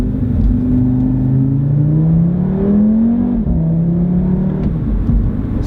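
An Audi RS3 accelerating hard, loud and close, its engine note rising steadily through a gear, dipping briefly at a shift, then pulling on with a deep rumbling tone.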